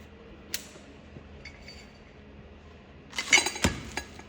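Spiral steel circlip being fitted into the machined groove of a ConMet PresetPlus truck hub, heard as a few faint metallic clicks followed by a brief, louder cluster of clinks and scrapes near the end.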